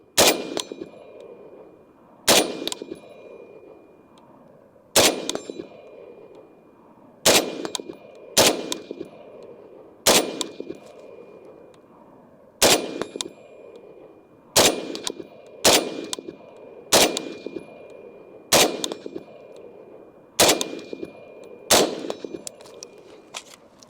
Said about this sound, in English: I'm gonna shoot some steel out there, and this is a 10-inch barrel